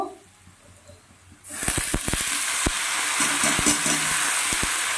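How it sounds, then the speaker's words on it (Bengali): Quiet stretch, then a loud steady sizzle of potatoes, onion and garlic frying starts and continues, with occasional pops and stirring clicks in the pan. "আলুটা ভাজা হয়ে গেছে পেঁয়াজ রসুনটাও ভাজা হয়ে গেছে"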